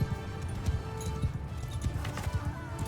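Horse hooves clip-clopping in a Mount & Blade II: Bannerlord battle, a quick irregular run of close, thudding steps over a busy backdrop of combat noise.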